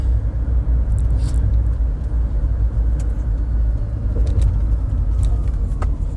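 A car driving over an overpass in heavy traffic, heard from inside as a loud, continuous low road rumble and engine drone with faint rattles on top, steady throughout.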